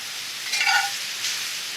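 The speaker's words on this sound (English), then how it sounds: "I'm just going to stir that around a little bit" Food being stirred in a cast iron pan over a campfire: a brief close scrape of the utensil rising over a steady soft sizzle, with no talking.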